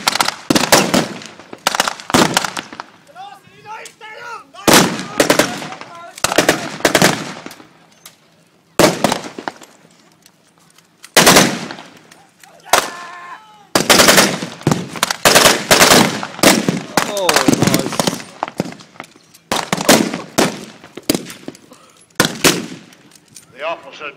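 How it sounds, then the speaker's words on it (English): Blank gunfire from rifles and machine guns rattles in sharp, loud bursts and single shots at a military reenactment with Axis and Allied forces, separated by quieter gaps with distant voices. "They're coming under intense fire."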